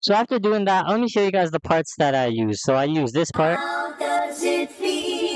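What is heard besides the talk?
No everyday noise stands out behind the speech.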